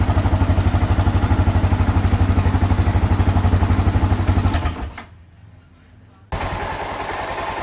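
A rebuilt Suzuki DR650 motorcycle engine idles close and loud with a steady rapid thumping beat, dips almost to silence for about a second, then picks back up into an even idle.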